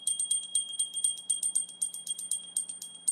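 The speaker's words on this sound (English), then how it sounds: "Where's my bell?" A small bell is rung rapidly and steadily, producing a bright, continuous run of metallic dings close by, with no talking.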